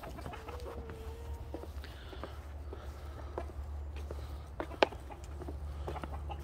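Chickens on a muddy smallholding clucking softly now and then, with a few footsteps, a steady low rumble of wind or traffic underneath and a sharp knock toward the end; no talking.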